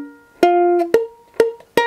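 A ukulele chord plucked slowly string by string with the thumb, one finger carelessly placed so a neighbouring string is muted; four close, distinct plucked notes ring out alone, one sounding dull and choked.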